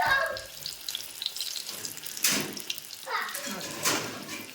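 Mirchi bajji (battered chillies) sizzling and crackling in hot oil on a medium gas flame, with bursts of louder bubbling as the fritters are turned over, close and under a spoken voice.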